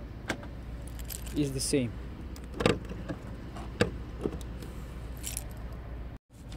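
A Seat Leon MK3 being locked and unlocked: keys jangle, with a few sharp clicks and clunks from the car's locks spaced across the clip, fairly quiet, with a brief remark spoken.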